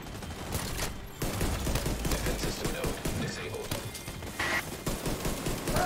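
Sustained machine gun fire from The Division 2 during a tense eight-player raid fight against a boss, dense rapid bursts running continuously with crashing impacts and game effects layered over it.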